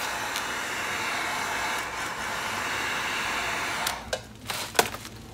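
A heat gun blows a steady hiss of hot air while warming tint film on a 2015+ Dodge Charger tail light, ending with a few short handling rustles and taps.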